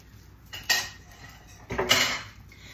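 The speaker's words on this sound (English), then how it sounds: "I'm gonna try to scrape a little bit more of that sauce out of this bowl" A utensil scrapes enchilada sauce out of a bowl in two close, gritty strokes, each a short rasping drag against the bowl, separated by quiet.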